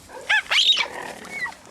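Captive cheetahs give a high, chirping cry, a short yelp followed by a longer rising-and-falling call, near and clear over a quiet background.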